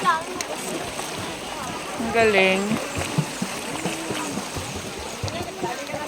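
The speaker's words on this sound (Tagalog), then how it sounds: "Lakas ng tubig." Water from a strong hot and cold spring in Esperanza, South Cotabato rushes and splashes steadily nearby, a constant churning flow while several people talk and exclaim over it.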